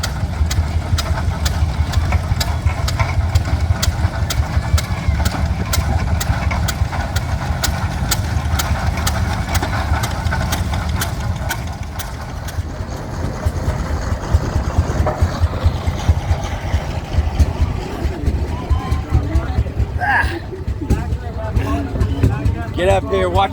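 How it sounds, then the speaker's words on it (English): A homemade tractor powered by a 1946 International Harvester LD engine idles with a steady, close chugging rhythm, while voices talk over it and other noise shifts in later on. "Runs with a 1946 LD International Harvester engine."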